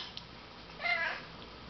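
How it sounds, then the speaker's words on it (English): A single soft cat meow, faint and a bit distant, in an otherwise quiet room with low background hiss. "What's the kitty doing, Wolfie"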